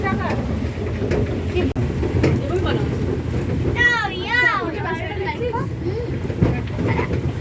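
Continuous rumble of a small toy train ride in motion in an eco park, with rain splashing, while people talk and chirpy voices rise briefly over the noise.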